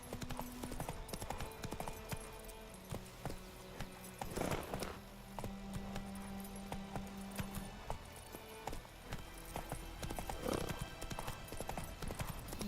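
Roach the horse galloping in The Witcher 3, a dense, steady clip-clop of hooves throughout, moderately close, with occasional game sounds and a soft neigh-like bump mixed in.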